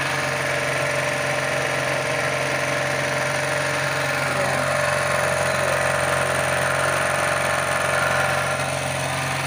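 A generator runs on a homemade LPG carburetor, its engine holding a steady, loud idle with a constant mechanical hum and vibration throughout, with no speech.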